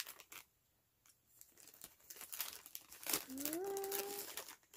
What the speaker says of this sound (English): going to be very careful just to cut the bag and not the contents